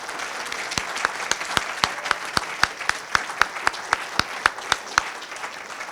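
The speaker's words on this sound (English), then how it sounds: "how about another round of applause for each participant?" A crowd at the Falling Walls Lab Manitoba finale applauds the participants, a broad wash of clapping punctuated by one sharp, rhythmic clapper close by, keeping a regular beat for several seconds.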